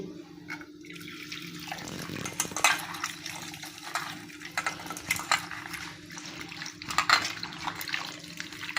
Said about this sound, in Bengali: ছিমটা এবার আমি ধুয়ে নিচ্ছি